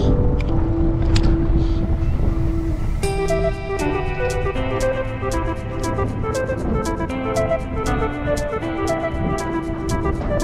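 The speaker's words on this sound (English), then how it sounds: "Speedboat." A speedboat passes by out on the water, its engine drone loud and close with wind buffeting the microphone, and the rushing, throbbing noise stays prominent throughout.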